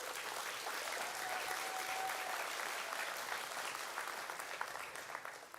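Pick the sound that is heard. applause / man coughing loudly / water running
applause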